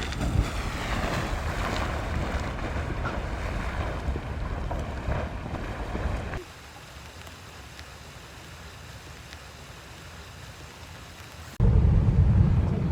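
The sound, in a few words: steam hissing from Sawmill Geyser, Yellowstone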